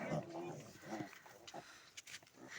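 Pigs of mixed sizes grunt and snuffle close by in a pen, short irregular grunts mixed with someone speaking nearby.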